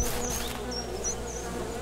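Buzzing bees in the horror video game Siren Head Resurrection, a loud, close insect drone with whining swoops as individual bees pass, continuous throughout with no talk.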